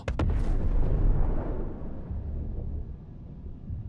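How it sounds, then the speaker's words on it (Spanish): A spaceship firing on the player's docked ship in Star Citizen near a hangar: a sharp burst of blasts at the start, then a heavy rumbling boom that slowly decays into a low, fading roar. "¿Eso es una nave disparando a la mía?"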